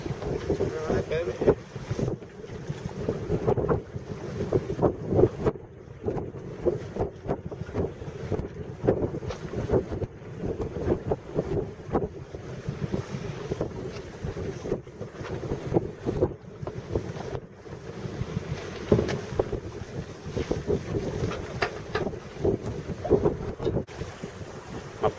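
A sailboat moves under steady wind, with constant gusting wind buffeting the microphone and water rushing along the hull, and faint voices now and then.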